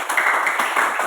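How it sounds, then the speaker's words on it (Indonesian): A classroom group of students clapping their hands together, a brisk burst of fairly close, loud claps with a few distinct peaks, no talking over it. "Kelompok visual tepuk tangan dulu"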